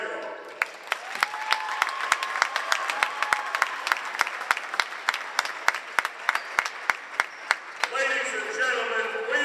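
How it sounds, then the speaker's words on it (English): Crowd applause at a college men's basketball game, Kalamazoo College against Adrian College, with loud sharp claps over a steady wash of clapping in a gym, and voices briefly audible near the end. "please join me in giving one last round of applause for all of our military service members in attendance today"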